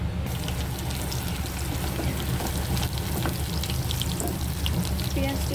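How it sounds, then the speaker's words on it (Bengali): Onion and ginger-garlic paste fry in a pan for a homestyle desi chicken curry, giving a steady, fairly quiet sizzle and crackle throughout with a few faint stirring scrapes. "পেঁয়াজটি যখন লালচে লালচে হয়ে আসবে, তখন আমি আদা রসুন এর পেস্টটি দিয়ে দেব।"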